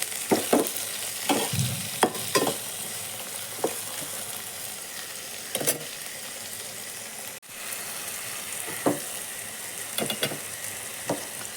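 Food frying in a pan is stirred with a spoon, making repeated scraping and clattering strokes at an irregular pace over a constant close sizzle, with no voices.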